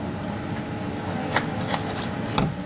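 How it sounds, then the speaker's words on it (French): A knife slices mini aubergines in half on a board, giving a few short crisp cuts over a faint background murmur. "C'est pareil, on la coupe au milieu."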